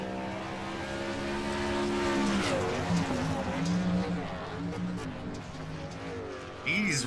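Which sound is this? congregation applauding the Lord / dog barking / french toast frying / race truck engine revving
race truck engine revving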